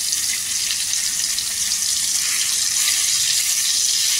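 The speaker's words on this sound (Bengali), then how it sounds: "একটুখানি টমেটোটাকে ভালো করে করে নেবো, নাড়ি চাড়িয়ে।" Tomato fries in hot oil in a pan and is stirred, giving a steady, loud, close hiss of sizzling throughout, with no talking.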